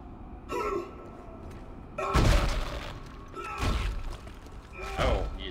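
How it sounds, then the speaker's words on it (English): Stasis module shots fired in the video game Dead Space: three or four separate bursts, each a sharp glassy crack with a thud, spaced a second or so apart over low game ambience. "I'm shooting stasis everywhere."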